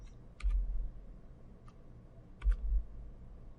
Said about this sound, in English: I like to use the keyboard, and it's simply a matter of doing a Control plus